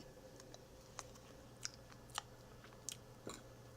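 Someone quietly chews a bite of microwave mug cake, with soft, irregular crunches and mouth clicks at close range. No one speaks.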